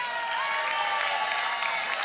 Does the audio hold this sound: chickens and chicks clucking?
no